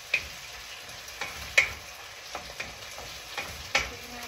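Garlic, onion and tomato sauté in a pan for pinakbet, giving a soft, quiet sizzle with scattered small ticks and clicks and no talking.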